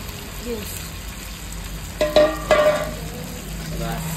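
Meat being stirred and fried in a pot over a clay stove on a rainy day, a steady low sizzle with a few louder scraping stirs of a spoon against the pot near the middle.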